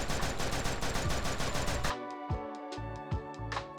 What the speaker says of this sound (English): guns eject casings that fall on the ground and trigger impact sounds